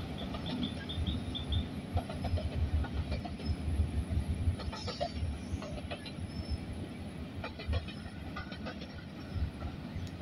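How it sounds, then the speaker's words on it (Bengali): A long passing intercity train of fourteen or fifteen coaches rumbles by on a morning track, a steady heavy roll with faint wheel squeal and clatter, close and continuous throughout with no talking. "ওই যে ট্রেন যাইতেছে"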